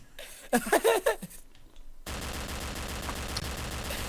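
Gunfire in the game Trouble in Terrorist Town comes as a steady, rapid stream of shots filling the last two seconds, after someone briefly speaks over it.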